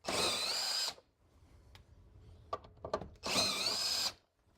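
On an MK4 GTI, a power tool spins off the top suspension bolts in two close, loud whirring bursts of about a second each, with faint clicks and handling noises between them.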